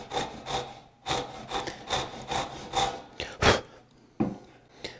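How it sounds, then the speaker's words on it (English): A hand saw cuts wooden tenon cheeks on a workpiece clamped in a vise, making steady rhythmic rasping strokes, about nine close pushes and pulls with short pauses between. "I'm going to start by sawing our tenon cheeks"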